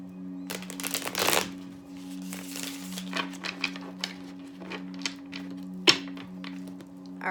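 Tarot cards are shuffled in a quick riffle, followed by lighter flicks and taps of cards being squared up, close by over a low background hum.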